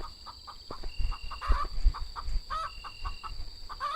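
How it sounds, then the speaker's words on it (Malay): A chicken in the video game Kacipbara clucks repeatedly in short, rhythmic bursts, fairly quiet, with a few louder squawks mixed in. "Ayam kita tengah berbunyi."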